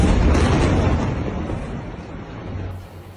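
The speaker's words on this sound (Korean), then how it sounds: "어둠이 짙은 가자 지구에 큰 폭발이 일어납니다." A large explosion from an airstrike on Gaza at night, a loud, broad roaring boom that rumbles on and slowly fades over a few seconds.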